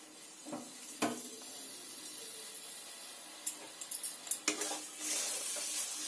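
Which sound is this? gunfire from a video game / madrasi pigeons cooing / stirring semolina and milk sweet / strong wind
stirring semolina and milk sweet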